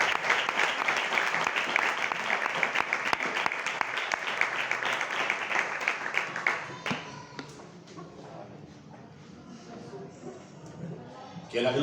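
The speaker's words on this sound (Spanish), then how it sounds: "Un aplauso para Dios." Church congregation applauding, a dense wash of clapping that is loud for about seven seconds before thinning into scattered claps and murmuring voices.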